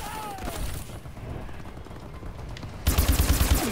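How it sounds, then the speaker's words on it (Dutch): An enemy bombing run strikes during a Call of Duty: Advanced Warfare match: a loud, rapid burst of repeated gunfire-like blasts erupts near the end, preceded by a rumbling battle bed and a brief whistling tone. "Enemy bombing run overhead."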